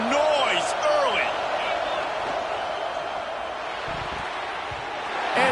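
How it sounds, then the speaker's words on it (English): Simulated stadium crowd from the college football video game NCAA 25, a dense, loud roar of cheering and whooping that holds steady throughout, with a commentator's voice over it. "This crowd bringing the energy and noise early."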